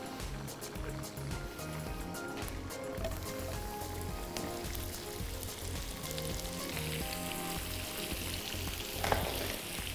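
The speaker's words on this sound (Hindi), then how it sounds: "ऑयल को गरम कर लेना है और फिर इसमें भिंडी डाल के हमने फ्राई कर लेनी है" Okra frying in hot oil gives a steady, soft sizzle and crackle throughout, close by and with no talking.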